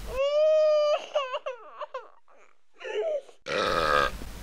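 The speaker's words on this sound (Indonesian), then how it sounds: "terdengar suara bayi membelah udara hutan yang sunyi" A baby cries in a quiet night forest in a fairy tale, with a sustained wail followed by choppy broken sobs and a brief pause, then a rough, noisy cry near the end.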